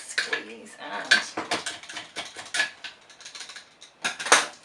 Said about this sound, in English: give it all a quick stab in there with the ice